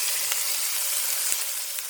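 Salmon kabobs sizzle in a pan on the stovetop, a steady close crackling hiss with a few soft pops and clicks.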